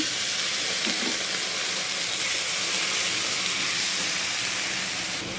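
Water poured onto a hot spice mix in a pan for a pabda fish dish with green chillies gives a loud, steady hissing sizzle that lasts the whole clip, with no talk.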